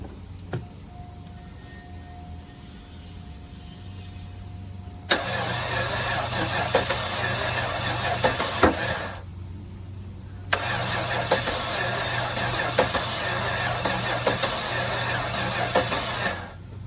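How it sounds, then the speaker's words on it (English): A 2002 Cadillac DeVille DES is cranked twice. Each long, loud grinding crank lasts several seconds, with a brief pause between the two and quiet idle-level noise before them. "let's try to crank it over again"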